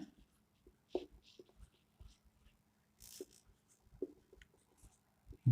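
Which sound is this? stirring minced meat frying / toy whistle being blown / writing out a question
writing out a question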